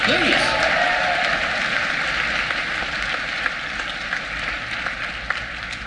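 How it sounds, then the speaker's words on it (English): A convention crowd at a fan panel breaks into applause, a thick continuous roar of clapping that starts strong and eases slightly, with a few sharper individual claps near the end and faint background tones. "huge round of applause for that"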